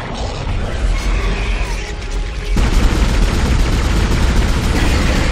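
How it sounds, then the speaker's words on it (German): Assault rifle fire in Dead Space pours out as a continuous, loud, heavy stream of rapid shots, growing denser and harsher partway through, with no talk over it. "Oh, ich mag die Sturmgewehr. Wie auf Asteroiden schießen."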